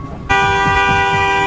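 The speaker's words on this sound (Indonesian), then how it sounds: "Ia pun kesal dan membunyikan klaksonnya berkali-kali" A car horn blasts at a pickup truck blocking the road in a traffic jam, one long, loud, steady honk that cuts in abruptly after a brief quiet moment and holds to the end.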